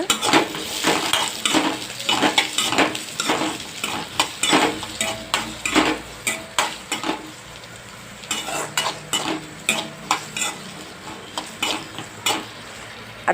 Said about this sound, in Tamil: அதில் வெங்காயத்தை போட்டு நல்லா வதக்கிக்கலாம் பூண்டு இஞ்சி போட்டு வதக்கிக்கலாங்க